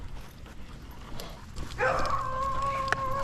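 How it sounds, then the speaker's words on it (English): Dogs encountered during a pack walk; a single close, tonal bark or yelp stands out against outdoor background noise, with no talk over it. "Lots of dog distractions."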